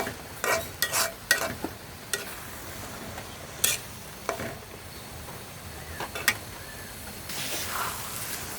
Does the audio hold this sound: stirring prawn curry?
yes